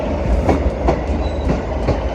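A Class 156 diesel train passing through Manchester Piccadilly station, with close, loud, rhythmic clickety-clack of wheels over rail joints and a steady rumble.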